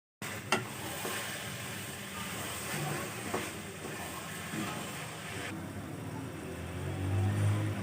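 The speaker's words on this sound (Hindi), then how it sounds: "अब हम इसको घी में फ्राई करेंगे, तब तक फ्राई करेंगे जब तक ये गल ना जाए।" Grated carrots fry in ghee in a pan for gajar ka halwa, giving a steady soft sizzle with occasional stirring scrapes. The sound stays close and continuous, with no talking.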